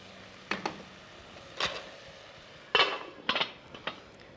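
A few metallic clanks and clinks ring out at close range, like a lid being set and adjusted on a cooking pot, with quiet pauses between.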